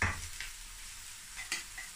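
Şevketi Bostan greens go into a pot of hot olive oil, giving a soft sizzle with light stirring scrapes and a couple of brief clatters, faint and close, with no talking.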